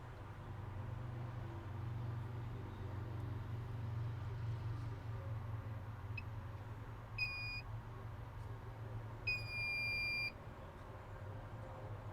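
A steady low hum fills the background while a few short electronic beeps sound from a valve module during a software update, first single and then in longer paired tones.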